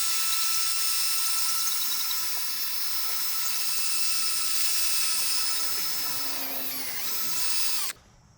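A power polisher buffs the plastic trim of a Toyota 4Runner with a scratch eraser, making a steady high-pitched whine that holds for about eight seconds, dips briefly in pitch, then cuts off abruptly.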